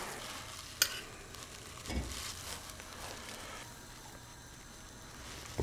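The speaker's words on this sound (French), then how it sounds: "Vous ajoutez vos oignons, feu doux, vous laissez bien s'imprégner" Onions cook gently in melted butter over low heat, making a soft, faint, even sizzle with occasional light stirring sounds and no voices.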